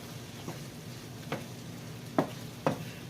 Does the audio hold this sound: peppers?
yes